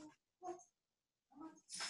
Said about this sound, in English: And excuse the squeaking. Sorry. It's our corgi.